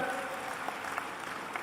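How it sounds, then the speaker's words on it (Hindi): Audience applause at a community matrimonial introduction gathering in Bhopal, a steady mid-level wash of clapping that runs without a break and carries a few sharper individual claps. "ताली जरा जोर से हो जाए।"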